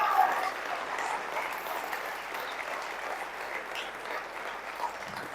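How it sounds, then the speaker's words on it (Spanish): Congregation applauding for the King during a church sermon, a steady wash of many hands clapping at moderate level that runs throughout with no break. "Aplauso para el Rey, aleluya."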